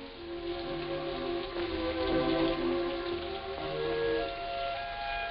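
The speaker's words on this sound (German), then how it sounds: "Es regnet." Steady rain falls outdoors at a mid-distance, a dense even patter on surfaces with faint tonal hum beneath, continuous for the whole stretch with no voices.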